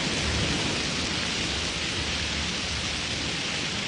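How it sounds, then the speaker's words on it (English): Steady rain falls on the leaves of a forest canopy, a dense continuous hiss that stays loud and even throughout, with no voices and no separate drops standing out. "Rain gently reaches the leaves here."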